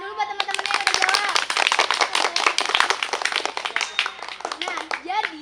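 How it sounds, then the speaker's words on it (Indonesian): A room of schoolchildren clapping for classmates who answered correctly, a dense burst of hand claps mixed with children's voices and chatter throughout. "Tepuk tangan dulu buat teman-temannya yang udah jawab."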